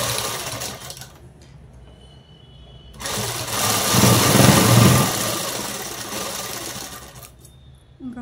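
Sewing machine stitching a Punjabi dress top, running in close bursts with a quieter stretch between runs, then a louder, faster stitching run toward the end.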